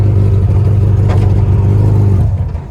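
A mini truck with a swapped-in Hayabusa engine accelerates hard in first gear, a loud, close, steady engine roar that eases off at the very end.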